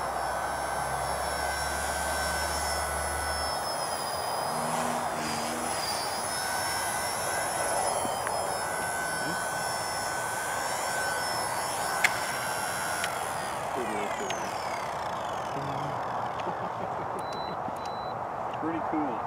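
An XK K110 brushless RC helicopter's rotor and motor whine steadily, shifting in pitch as it flies, with occasional voices in the background.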